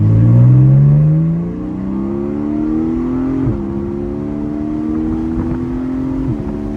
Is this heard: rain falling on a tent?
no